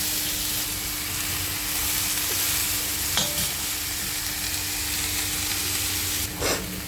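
Cowpea greens and onions sizzle steadily in a pan as they are stirred, with a constant frying hiss broken by a few sharp scrapes and clinks of the spoon.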